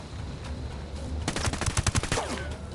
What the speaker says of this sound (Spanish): Ese tío llevaba una ametralladora más pesada, ¿eh?